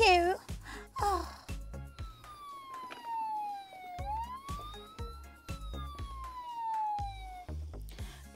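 A toy or cartoon ambulance siren wails with rising and falling pitch, steady and fairly close, while voices speak briefly at the start and end.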